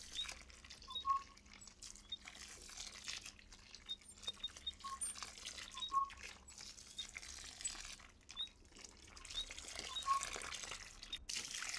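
Water poured from a watering can into the soil basin around a newly transplanted tree, faint close trickling and dripping with a few brighter splashes and drops scattered through, no voices.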